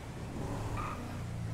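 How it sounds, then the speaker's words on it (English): A car engine and exhaust in GTA 5 rumble steadily with a brief rising rev in the middle, moderately loud and low-pitched. "Does the exhaust on this thing sound different?"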